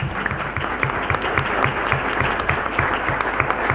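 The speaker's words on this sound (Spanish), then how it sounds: "un aplauso pues para el hermano" A church congregation applauds a visiting brother, a pastor: a steady, moderately loud burst of many hands clapping, with a few individual claps standing out in a loose rhythm and no speech over it.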